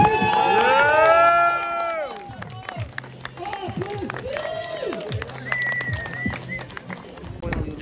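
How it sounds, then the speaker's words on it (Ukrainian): Spectators at a BMX freestyle park competition shout and cheer, a dense roar loudest at the start and then easing into a steady crowd murmur with scattered whoops, while an announcer talks over it. "Юрба заголошує всіх, хто проходить в фінали."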